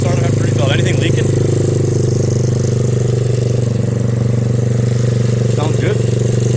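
A freshly rebuilt pit bike engine (110–140cc class) idles steadily and loudly after its first start following a top end rebuild, a constant close mechanical drone throughout with a few brief voices in the background.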